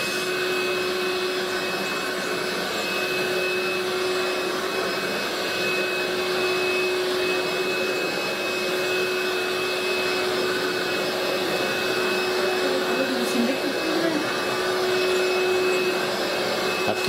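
Genius Invictus X3 vacuum cleaner running on carpet, a steady loud whine with high tonal hum that holds unchanged throughout, close to the microphone.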